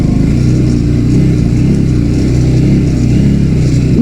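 A motorcycle engine rumbles loud and close as the bike sets off on a morning ride in Taplejung. The steady mid-pitched drone stays constant throughout, with no talking over it.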